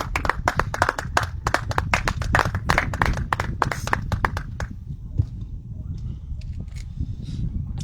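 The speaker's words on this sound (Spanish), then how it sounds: "Denle un aplauso a Cristo." A church congregation claps to give praise, sharp individual hand claps ringing out close and loud for about four seconds before tapering off to a quiet room.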